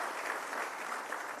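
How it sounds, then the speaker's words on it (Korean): An audience claps at a Korean talk show, a dense and even burst of applause held at a steady level from start to finish. "박수 부탁드립니다."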